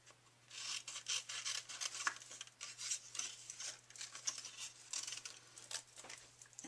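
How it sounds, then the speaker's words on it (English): Scissors snip repeatedly by hand through silver foil paper, close and quiet, with a busy run of short crisp cuts and rustling between them. "I'm just going to go ahead and hand cut this."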